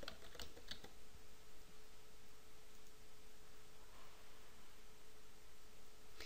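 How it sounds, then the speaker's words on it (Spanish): Steady clicking of keys on a computer keyboard as a search term is typed into software, fairly faint with a cluster of sharper keystrokes near the start over a constant low hum. "escribiremos el término adult en inglés"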